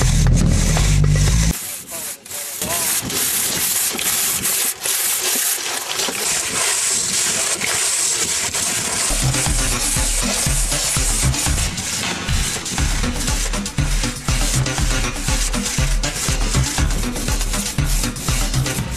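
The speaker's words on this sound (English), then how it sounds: "people using hand saws to cut through limestone blocks" Long hand saws rasping through limestone blocks, a loud gritty back-and-forth scraping that runs almost continuously, with a brief break near the start.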